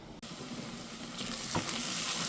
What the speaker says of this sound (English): And I am going to saute this until it's soft but not brown